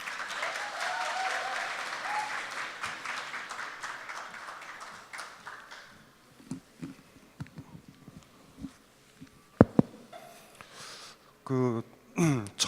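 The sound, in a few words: audience applause welcoming a speaker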